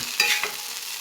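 Fish fries in a pan with a soft, steady sizzle, plus a couple of brief scraping stirs nearby.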